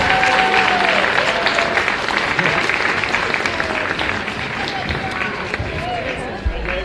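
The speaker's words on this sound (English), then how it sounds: "We give Kira a round of applause." Crowd applause fills a gym during senior recognition at a high school girls basketball game, steady loud clapping with some cheering and background voices throughout.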